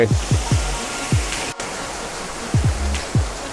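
Steady rushing water noise from a nearby waterfall, with a few low thumping knocks near the start and again toward the end.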